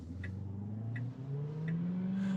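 A Tesla running FSD Beta 11.3.6 accelerates toward a left turn, its motor whine rising steadily in pitch across a couple of seconds, heard from inside the cabin with faint periodic clicks.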